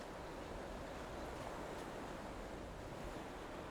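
Stormy wind howls steadily through an icy mountain landscape in Skyrim Special Edition, a constant, faint rushing roar with no other sounds.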